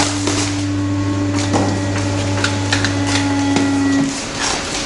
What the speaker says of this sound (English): You'll hear the machine cut out in a moment.